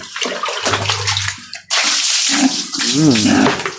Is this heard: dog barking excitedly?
no